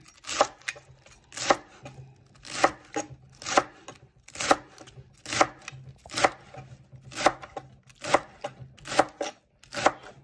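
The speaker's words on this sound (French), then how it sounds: "les poireaux, vous voyez, je les prends par 4 hein, pour que ça aille plus vite, moi." Knife chopping through a bundle of four leeks on a cutting board, loud close thuds in a steady rhythm of paired and single strokes, about a dozen bursts across the stretch.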